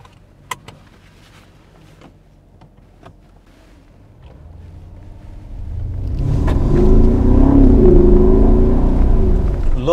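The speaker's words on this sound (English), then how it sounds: "Lovely sound of the V8 engine." A 2017 Mercedes-Benz S500 Cabriolet V8 starts quiet, then builds into a deep, loud engine roar as it accelerates, the rumble swelling and holding strong to the end.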